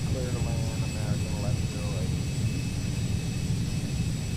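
A Cessna Citation CJ2 business jet comes in to land in a flight simulator game, its jet engines holding a steady, dense roar throughout, with a faint voice briefly audible early on.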